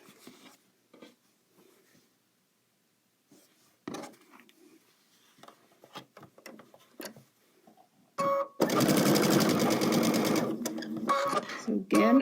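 A sewing machine stitches quilt block pieces together, first with scattered soft clicks and handling sounds under talk, then a loud steady whirring run of stitching near the end.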